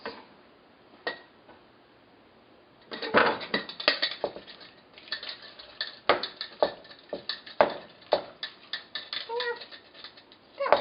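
A dull kitchen knife cutting guacamole ingredients on a board. Quiet at first, then a close, irregular run of sharp taps and clicks, growing busier toward the end, with no voices.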